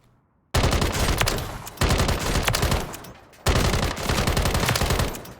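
Three long bursts of BAS-B rifle fire from Call of Duty: Warzone, loud and close, rapid automatic shots aimed at plated training dummies, separated by brief pauses, with no talking.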